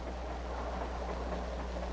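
A train runs steadily on rails with a continuous low rumble and faint rolling noise, a constant moderate drone with no distinct clacks.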